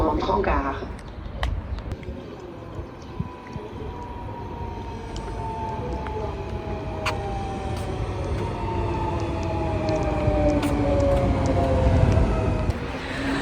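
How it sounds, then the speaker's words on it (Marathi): A train rolls in, its rising and falling whine and rumble building steadily over several seconds, with a few clanks; a person talks during it. "ट्रेन आली आहे, सहा छत्तीसची ट्रेन होती."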